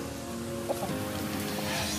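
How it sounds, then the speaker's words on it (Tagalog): A Rhode Island Red chicken clucks softly in short bursts over a steady background murmur, close by and fairly quiet. "Rhode Island Chicken."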